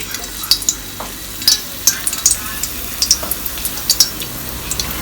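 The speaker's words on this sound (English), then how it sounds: "So I'm gonna just put some garlic in the oil." Garlic sizzles in hot oil in a pot over a low flame, a soft steady crackle under repeated light clinks and scrapes of a utensil stirring against the pot.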